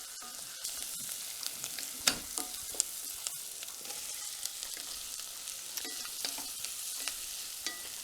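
Onion and sweet potato filling for empanadas fries in a pan, a steady close sizzle broken by frequent sharp scrapes and clicks of stirring, with no talking.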